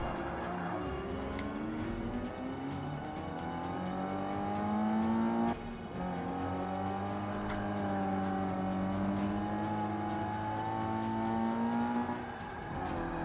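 A Mazda's engine revs steadily in Forza 5, a loud, sustained drone that rises and falls in pitch as the car slides around with little grip, with a brief dip partway through before it climbs again.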